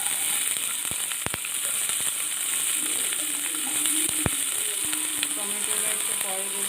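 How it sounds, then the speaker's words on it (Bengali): Chopped onion and green chili fry in hot oil with cumin in a home kitchen pan for a Bengali aloo jhinge posto, a steady close sizzle broken by sharp clicks and scrapes from stirring. "এরপর পেঁয়াজ, কাঁচা লঙ্কা দিয়ে দেবো।"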